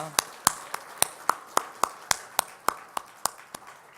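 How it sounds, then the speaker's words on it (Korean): A church congregation claps together at a worship service, sharp, evenly spaced hand claps at a steady rhythm, fairly close and clear with little else behind them. "우리 기도와 찬양과 영광을 받으신 하나님께 다시 한번 박수 드리겠습니다."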